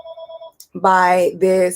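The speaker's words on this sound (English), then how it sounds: "that's my phone ringing." A telephone rings with a short, bright electronic two-tone trill, loud and close, then falls silent as a voice starts talking over the rest.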